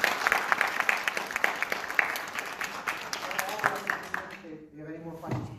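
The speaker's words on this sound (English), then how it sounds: "Can we have a round of applause?" Audience applause at a Ms. Marvel comic convention panel, a dense patter of many hands clapping steadily before fading out, with a voice briefly talking near the end.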